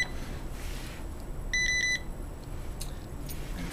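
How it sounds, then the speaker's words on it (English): A Morning Industry QF 3 in 1 remote keyless deadbolt gives a brief cluster of sharp, high electronic beeps midway through, standing out over a steady background hiss. "Once the remote is registered with the lock, it will then beep twice"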